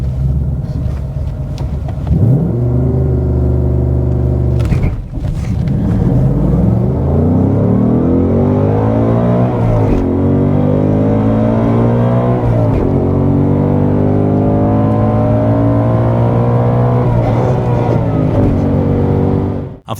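Car launching off the start line with launch control holding the RPM, then the clutch dumped: a steady loud engine drone, a brief dip, then revs bogging and climbing repeatedly under heavy load, close and continuous.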